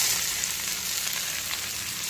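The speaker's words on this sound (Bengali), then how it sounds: "এখন দিয়ে দিচ্ছি পেঁয়াজ কুচি" Chopped onion hitting hot oil already fried with panch phoron, a close, steady, bright sizzle that holds evenly throughout, with no talking over it.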